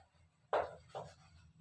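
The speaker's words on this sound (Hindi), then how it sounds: "सो मैं यहां लिखती हूं" Chalk or marker strokes on a board during a class, two short scratchy strokes close by in an otherwise quiet room.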